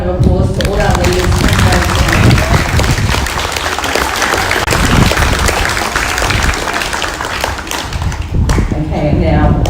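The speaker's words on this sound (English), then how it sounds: "can we get everyone to give a big round of applause to all our leaders?" A school crowd at a Kelso State School parade claps loudly and steadily for its student leaders, a thick, close wash of hands with faint voices mixed in under it.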